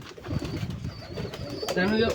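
Pigeons coo in low throaty murmurs close by, a steady soft rumbling that swells near the end.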